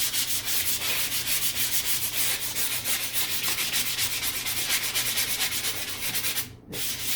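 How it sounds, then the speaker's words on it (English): Continuous rhythmic scratching of light sanding on a dried drywall patch, rapid back-and-forth strokes close up, with a steady low hum underneath. "just sand it lightly"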